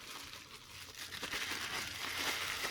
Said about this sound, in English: I got them, and I started taking them out, and I started unwrapping them